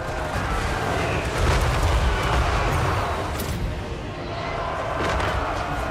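Explosion spells going off in the Total War: Warhammer III video game, a loud, dense rumbling barrage of booms and thuds that holds steady for several seconds with no talk over it.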